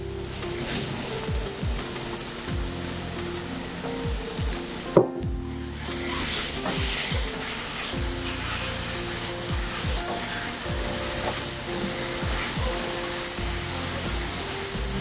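Chicken curry sautés in oil, a continuous close sizzle broken by stirring and scraping and one sharp knock partway through.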